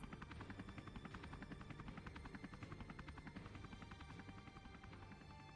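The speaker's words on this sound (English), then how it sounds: "Pretty sweet helicopter, though." A video game helicopter's rotor thumps in a steady rapid rhythm over a droning engine, continuous and fairly close.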